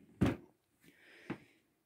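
A drawer in a LEGO train storage unit slides open with a sharp thump, a brief rolling glide, then a second knock, quiet and close.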